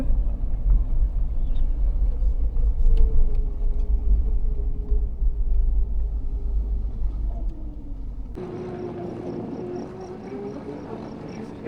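A Lexus drives off-road through deep water. A steady, close, low engine rumble and drone fills the scene, and the tone shifts to a thinner hum near the end.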